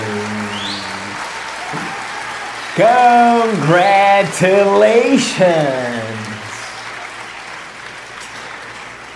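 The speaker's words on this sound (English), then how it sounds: "Now, a round of applause to you." A class applauds steadily with broad clapping noise, while voices shout and cheer loudly over it midway before the clapping fades back to a steady patter.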